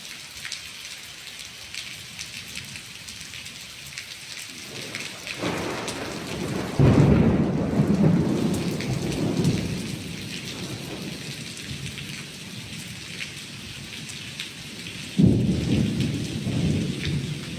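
Heavy rain pours steadily on a temple pavilion while strong gusts of wind swell and roar, with a deep rumble surging through the middle and another burst near the end.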